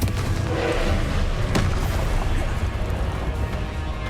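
Booming, crackling explosion spell effects in the Hogwarts Legacy video game, a dense continuous roar with a sharp crack near the middle, loud and close with no talk.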